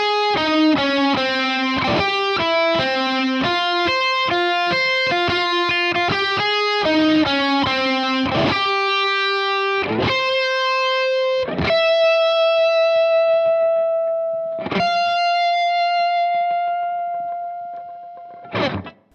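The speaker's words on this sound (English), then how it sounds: "so the entire solo will sound like this" Distorted electric guitar plays a solo, a run of quick, bright picked notes that settles into long sustained bends and held tones with effects, loud and alone without talking.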